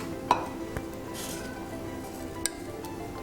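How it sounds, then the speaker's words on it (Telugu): Oil in a kadai being stirred for a tempering of spices for masala mint buttermilk, with a soft sizzle under a few sharp metallic clinks of a spoon against the pan, spaced irregularly. "ముందుగా మనం కడాయి పెట్టుకుని ఆయిల్ వేసుకుందామండి"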